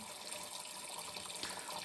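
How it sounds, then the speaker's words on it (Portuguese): An RO/DI water filter flushes its membrane, giving a steady hissing rush of water under pressure, faint and continuous with no voices. "Ele está fazendo aqui o flush, vai fazer um flush por uns 15 segundos, ele está lavando a membrana"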